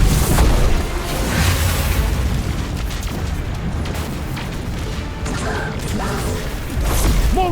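A missile explodes in the Destiny 2 video game, loud rumbling booms and crashing debris amid mechanical battle noise, continuous and close for several seconds.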